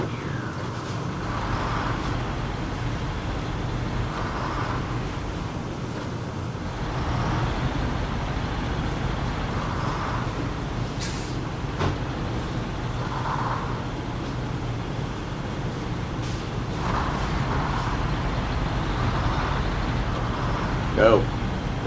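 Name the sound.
GMC MH9500 truck engine driving in SnowRunner video game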